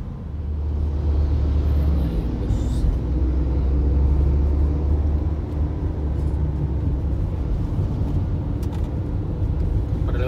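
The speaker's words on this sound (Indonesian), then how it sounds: "jadi bunyinya sih kalau dipakai lama dia baru terasa klutuk-klutuk-klutuk gitu." A Scania double-decker bus with a knocking front suspension drives along, its engine and road noise forming a steady, loud low rumble throughout, with no distinct clunks standing out.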